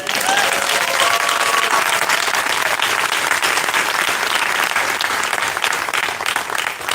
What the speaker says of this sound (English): I think we need one more round of applause